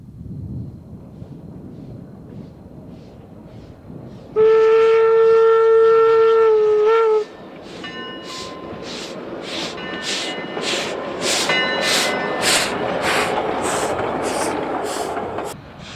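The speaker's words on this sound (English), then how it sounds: "the locomotive was to be test run on the main" A steam locomotive with tender on a main-line test run sounds a loud, steady whistle for about three seconds, then chuffs away in an accelerating series of strong exhaust beats that build in loudness, heard close and outdoors with no speech.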